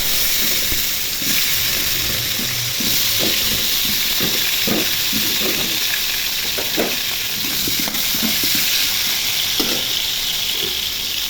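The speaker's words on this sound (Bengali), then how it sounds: "তেল গরম হয়ে গেছে, এখন আলুগুলো আমি ভেজে নিব।" Potatoes coated in turmeric and salt frying in hot oil, a loud steady sizzling hiss with occasional stirring knocks against the pan, continuous and close throughout.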